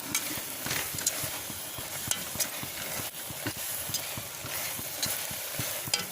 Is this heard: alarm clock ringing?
no